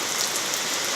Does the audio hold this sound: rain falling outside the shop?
yes